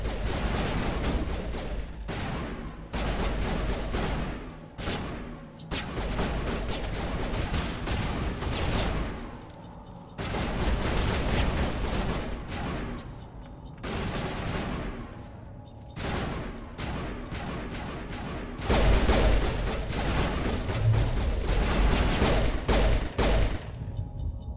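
Gunfire in Mass Effect Legendary Edition: repeated bursts of rapid automatic shots separated by brief pauses, loud and close, with occasional heavier booms and mechanical clatter.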